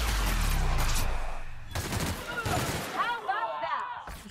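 Gunfire in the video game The Outer Worlds: a dense burst of rapid shots up front, then sparser cracks as voices talk over the fight.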